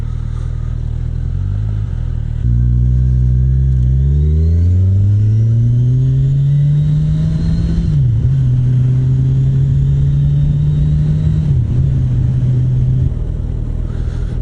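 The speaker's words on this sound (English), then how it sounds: "I can't get over how good the stock exhaust sounds." A 2018 Kawasaki Ninja 1000 with its stock exhaust, ridden on the road: a loud, close engine note rises smoothly as the bike accelerates, dips at gear changes, then holds a steady drone, with no talking.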